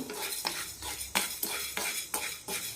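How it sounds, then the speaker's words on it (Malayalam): Horse gram is dry roasted in a hot pan, a spatula scraping and stirring in a steady rhythm of about seven close strokes, with the dry pulses rattling. "അതിനായി കാൽ കപ്പ് മുതിര എടുത്തിട്ടുണ്ട് ഇതൊന്ന് റോസ്റ്റ് ചെയ്തെടുക്കാം"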